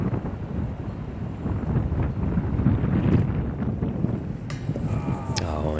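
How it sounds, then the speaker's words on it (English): Strong wind buffets a microphone outdoors on a disc golf course, making a steady, rumbling roar that swells and eases without stopping. "as you can hear, the wind, it was ripping"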